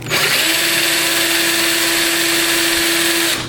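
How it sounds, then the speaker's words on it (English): Fine-grit sandpaper working over a fire piston rod gives a steady, continuous abrasive hiss with a sustained whine. It runs nearly unchanged for about three seconds, loud and close, with no talking. "I've been using a really fine grit sandpaper on this, just like this"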